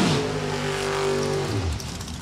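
A Dodge Avenger and a Corvette drag racing car launch off the line together, a loud sustained engine roar that holds steady and then drops away as they pull off, with no talking.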